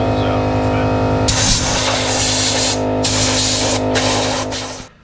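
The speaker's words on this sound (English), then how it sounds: "we'll fire up the old air compressor, the one that spews oil all over my garage floor" An oil-spewing air compressor's blow nozzle blasts air into the hitch mounting holes of a Toyota FJ Cruiser in a home garage, a loud close hiss that starts abruptly, briefly cuts out a few times, and runs over a steady low mechanical hum.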